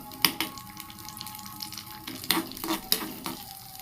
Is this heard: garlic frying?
yes